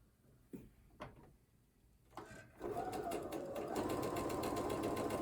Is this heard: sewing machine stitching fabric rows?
yes